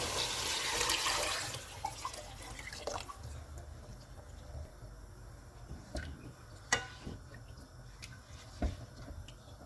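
Prepared yakhni stock is poured into fried beef for achari beef pulao: a brief loud liquid rush opens, then quieter bubbling, drips and occasional utensil clinks follow.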